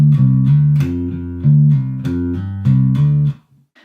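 A measure of a funky bass guitar riff built on hammer-ons: short plucked notes in a syncopated pattern, played solo and close, ending on a brief fade.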